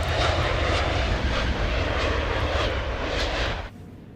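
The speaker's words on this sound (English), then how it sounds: "And we can see the extremely fast moving jet." A fast-moving jet passing overhead in Train Sim World 3, a loud sustained roar holding steady for several seconds before cutting off abruptly into quiet.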